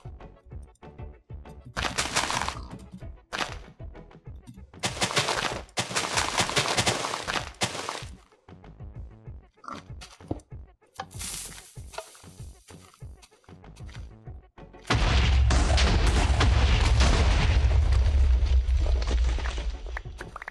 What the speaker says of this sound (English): Let's get a nice explosion